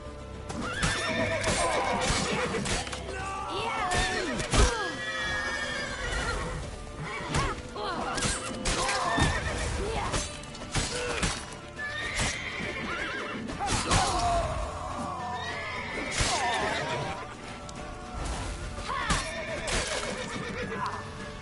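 A horse in The Witcher 3 video game neighs and whinnies repeatedly over busy, clattering hoofbeats, loud and close throughout, with heavy thuds and crashes mixed into the action.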